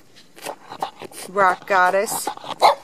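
A pet dog makes short vocal barks and whines at close range, the sounds mixed in among a person's chatty talk.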